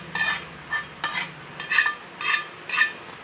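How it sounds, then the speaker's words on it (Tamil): Spoon stirring a mixture of boondi, sugar syrup, raisins and cardamom powder for laddu, making six scraping, clinking strokes in a steady rhythm, close and fairly quiet, with no talking. "இப்போ நல்லா கிளறி விட்டுக்கலாம்."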